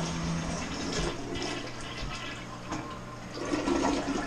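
A toilet in a workshop flushes with a gurgling rush of water that swells and fades in uneven surges, ending in a louder wet gush, fairly close and with no talk.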